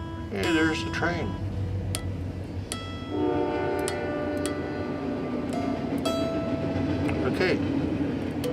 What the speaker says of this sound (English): Hey, there's the train.